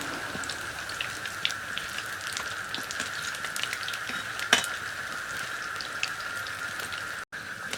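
Pakoras made with helencha greens and coriander leaves fry in hot oil, giving a continuous close sizzle and crackle with scattered sharp pops and no talking.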